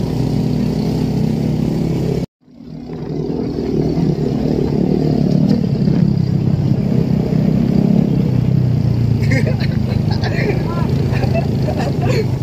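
Motorcycles race with loud, continuous engine drone and clatter that cuts out abruptly for a split second, then resumes at a steady roar, with voices talking throughout.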